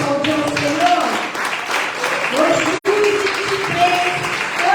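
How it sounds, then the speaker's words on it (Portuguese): Church congregation applauding, steady dense clapping with voices and singing-like tones mixed in throughout, one brief dropout near the end. "Você pode aplaudir o Senhor?"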